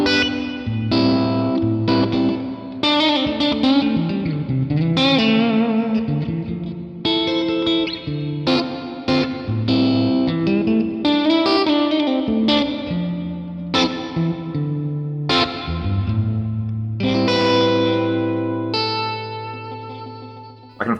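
An electric guitar rings through a reverb pedal in a string of plucked notes and chords, each decaying into a lingering wash of ambience, loud and without talk.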